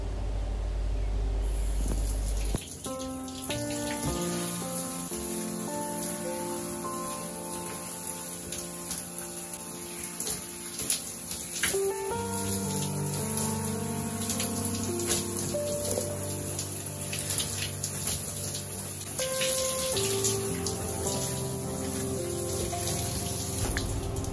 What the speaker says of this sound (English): So now rinse your hair.